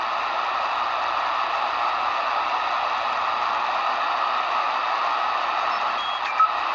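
A shortwave radio, a Degen DE1103, tuned near 3581 kHz on the 80 meter band carries the W1EW Morse code signal as a faint tone buried in steady loud static hiss, continuous throughout.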